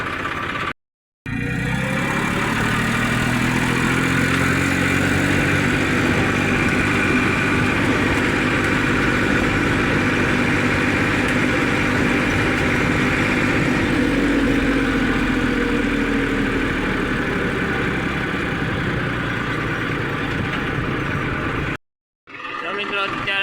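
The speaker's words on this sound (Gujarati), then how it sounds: "ટ્રેક્ટર હવે લઈને જાય છે ઘર બાજુ." A tractor engine runs steadily and loudly at a constant drone while being driven home through farmland after rain, with a brief cutout near the start and end.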